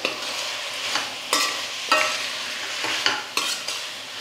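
Chicken frying in oil for a curry is stirred in a pan, with a steady sizzle broken by about seven sharp scraping strokes of the spoon at an irregular pace, close and clear.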